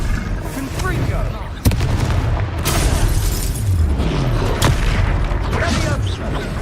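The Confringo explosion spell in the Hogwarts Legacy video game goes off with a loud boom and crackling blasts, followed by rumbling impacts and further explosive bursts amid game combat noise and voices.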